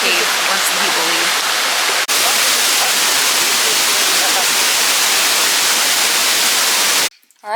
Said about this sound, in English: it's literally a waterfall that falls in between the rocks deep in there